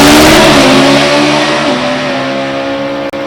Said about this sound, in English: It's not a little Pontiac singing down the other end.